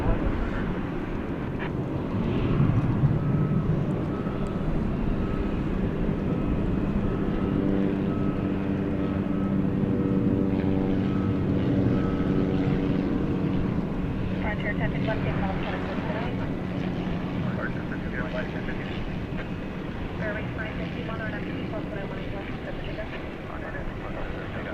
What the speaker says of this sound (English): It's a Martinair cargo plane, Flight 655 coming in from Tyler